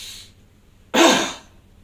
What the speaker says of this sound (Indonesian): ambil napas kuat-kuat dari hidung, keluarkan dengan batuk